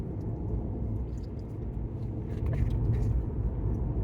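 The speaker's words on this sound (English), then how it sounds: "cruising along here in my Chevy Bolt" A Chevy Bolt electric car cruises along a road, giving a steady low tire and road rumble heard from inside the cabin, rising slightly in the second half, with no talk.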